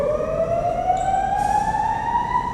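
A loud, steady fire alarm wails continuously at close range, its rising tone holding unbroken over a dense background, with no talking.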